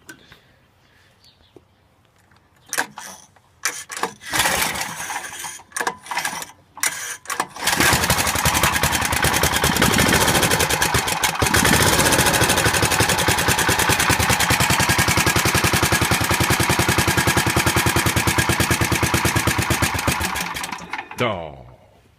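A Snapper lawn mower engine is pulled through a few rough sputtering attempts, then catches and runs loud and steady for over ten seconds before cutting off abruptly, with a voice talking near the start.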